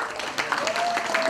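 Applause breaks out at a Korean mountaineering club's year-end party as the club's hiking leader is introduced, a dense moderate patter of clapping with a sustained tone running through it.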